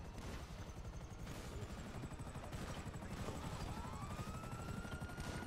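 Gunfire and a helicopter roar in a Grand Theft Auto V game session: a dense, continuous wash of rotor noise with rapid bursts of shots throughout, fairly loud and steady.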